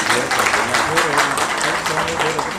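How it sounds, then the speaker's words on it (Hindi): Loud applause from an audience at a Uttarakhand film and theatre institute event honouring a historical heroine, dense continuous clapping in a hall with a voice or crowd noise mixed underneath. "जोरदार तालियां हो जाए।"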